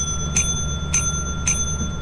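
Three evenly spaced bright bell chimes ring out over a steady electronic hum in the video game Lethal Company, each strike clear and short with a brief ringing tail.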